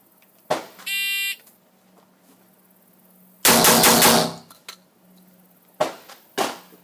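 A shot timer beeps once, then a Mossberg 930 JM Pro semi-automatic shotgun fires a rapid string of loud blasts in quick succession, followed by a couple of separate bangs nearby.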